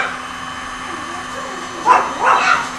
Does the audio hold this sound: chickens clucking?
no